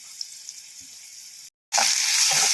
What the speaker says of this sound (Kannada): ಈರುಳ್ಳಿನ ಸ್ವಲ್ಪ ಫ್ರೈ ಮಾಡ್ಕೊಳ್ಳೋಣ